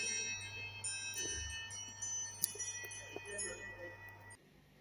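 A chimes-style phone ringtone called Campanillas rings out in soft, sustained bell-like tones with scattered strikes over a low hum, faint and steady before stopping near the end.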